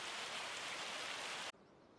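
Hail pelts down in the Riverbend Springs logging video game, a quiet, even wash of tiny impacts that cuts off abruptly after about a second and a half. No voices.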